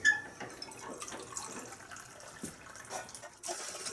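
Water pours and trickles into small metal tins set out for a camping stove test, a light splashing flow with clinks and drips, quiet and close, with a brighter gush near the end.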